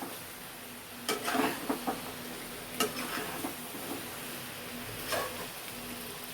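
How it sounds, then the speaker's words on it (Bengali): Chicken stew ingredients frying in a pan hiss softly while a utensil stirs them, with a few sharp scraping clicks against the metal at irregular intervals. "দেখো এটাকে একটু নেড়ে নিয়ে এবার সবগুলোকে একসাথে ভাজা বসিয়েছিলাম"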